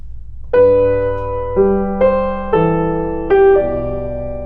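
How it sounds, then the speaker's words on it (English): A plain piano passage without ornaments, five or six distinct notes struck one after another at a moderate pace, each ringing clearly and decaying under the next, close and alone. "the first time I played it without any ornamentation, it sounded like this"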